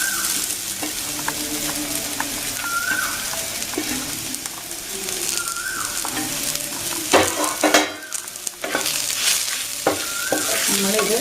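Chillies, onion and a little coconut roasting in a pan on low heat, stirred as they go: continuous loud scraping and sizzling with repeated clanks of the spatula against the pan, no talk.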